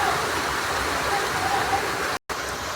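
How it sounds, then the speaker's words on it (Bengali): Chicken curry bubbles in a covered pot, giving a steady, close rushing simmer with a brief cut near the end and no other sounds. "তারপরে আমি ঢাকনটা লাগিয়ে দিলাম। 2-3 মিনিট এটা ফুটিয়ে নেবো ভালো করে।"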